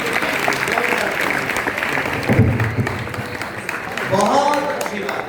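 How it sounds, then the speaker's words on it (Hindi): Audience applause at a Hindi devotional discourse gathering, a steady wash of clapping from a seated crowd that swells briefly midway, with a voice speaking over it near the end. "तालियां बजाइए।"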